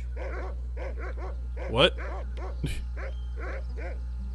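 A dog in the video game Monkey Island 2: LeChuck's Revenge Special Edition gives a quick run of yappy barks and whimpers, with a character's voice speaking briefly.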